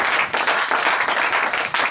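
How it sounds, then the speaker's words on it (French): A church congregation gives a loud, close acclamation, with dense clapping and cheering in short surging waves. "Donnons une acclamation au Seigneur."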